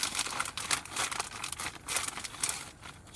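A colorful snack chip bag crinkles and rustles as it is handled close by, in bursts of crisp crackling that stay steady for a few seconds, with no voices.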